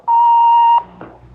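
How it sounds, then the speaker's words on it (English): A single steady electronic tone from a telephone answering machine lasts most of a second, clear and loud, then cuts off into a soft click and a quiet room. "Just wait for that beep and then let it all hang out."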